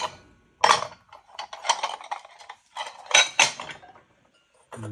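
Ceramic rice bowls clink and knock together in several sharp bursts with short pauses as they are unloaded from a pottery kiln, close and clear.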